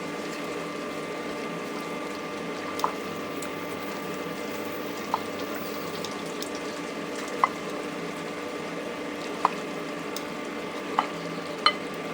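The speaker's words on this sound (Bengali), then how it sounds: "এই যে এদিকে আমার কিন্তু পেঁয়াজটা আধা আধা ভাজা হয়ে গেছে।" Onions sizzle gently in a pan while cooking chicken kosha, a soft steady frying hiss with a few faint clicks and pops scattered through it.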